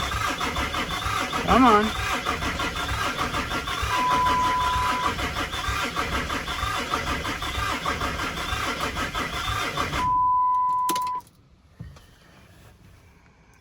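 An old Cummins diesel engine cranks and runs roughly for about ten seconds, loud and close, then cuts off abruptly; a person speaks briefly over the engine noise.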